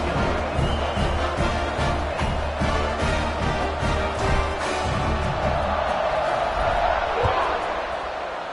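A stadium crowd roars steadily during a college football game as the kickoff unit takes the field after a long touchdown drive, a dense continuous wash of cheering and noise throughout.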